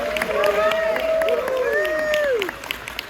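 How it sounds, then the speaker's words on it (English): A crowd claps steadily, with loud whoops and cheers rising over the applause. "Let's give him another round of applause."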